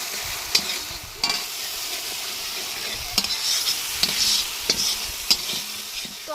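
Spice paste with cashew and melon-seed paste is stir-fried in oil outdoors at a village winter picnic, a constant sizzle broken by irregular scraping knocks of a spatula against the pot, with no voices.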